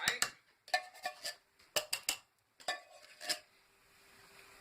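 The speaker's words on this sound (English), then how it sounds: "So you just put a knife in around the edge and go around the edge. And then just kind of scrape it out." A knife scrapes around the edge of a container of sweet potato and coconut soup, giving a run of short clinking, scraping strokes in irregular bursts, close and moderately loud, then settling into quiet.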